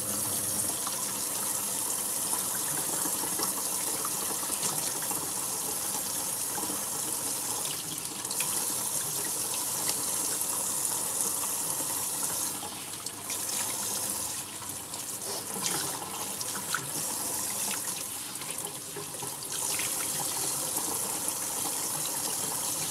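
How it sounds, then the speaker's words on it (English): Water runs steadily from a tap into a sink, a close, continuous gushing hiss that stays loud for the whole stretch with no talking. "I'm under the sink under this water"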